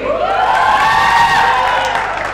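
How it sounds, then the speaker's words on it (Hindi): Studio audience at a cricket-themed show cheers and claps loudly for a guest, a dense sustained wash of applause and whoops. "जोरदार तालियां मृदुल के लिए"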